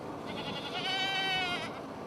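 Goats bleat on an island in Murrells Inlet, South Carolina, one wavering, drawn-out bleat rising in the middle and fading out, heard alone over a low ambient background.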